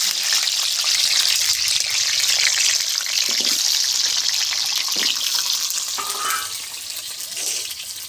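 Food sizzling hard in hot mustard oil in a kadai, a dense steady hiss that stays loud throughout with a few faint knocks underneath, close by and without speech.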